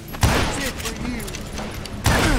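Two heavy gunshots from the Western shooter video game Call of Juarez: Gunslinger, a battle set in a sawmill, each a sharp booming crack with a trailing echo, spaced about two seconds apart, with game sounds and a voice filling the gap between them.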